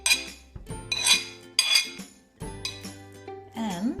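Chopped onions and tomatoes go into a bowl of guacamole, with several clinks and scrapes of a spoon against the bowl in separate bursts, close and clear, and no talking.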